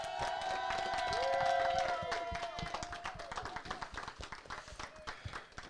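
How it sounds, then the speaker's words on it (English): An audience applauds the panelists and moderator at an activism panel event in Baltimore. The applause starts under a sustained tone and voices, then settles into scattered, fairly close hand claps that continue to the end. "can we please give our panelists and our moderator a round of applause, please?"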